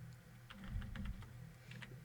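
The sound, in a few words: typing on computer keyboard while wearing gloves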